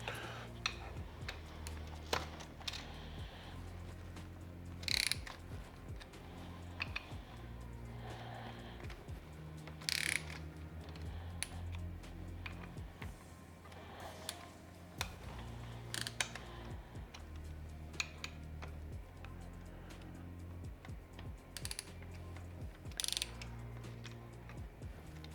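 A ratchet loosens the handlebar riser bolts on a motorcycle. Faint, irregular clicking and small metallic knocks sit over a quiet background throughout.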